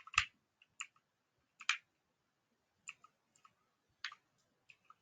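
Sparse keystrokes on a computer keyboard while JavaScript code is entered, a handful of separate clicks spaced irregularly over a few seconds, close and fairly faint with no talking.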